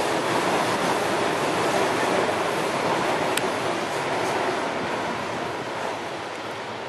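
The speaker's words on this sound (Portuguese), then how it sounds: "Trem da série 7000" A CPTM series 7000 train, now run by Via Mobilidade, passes near Lapa station, giving a steady broadband roar that holds loud throughout and eases slightly toward the end, with no voices.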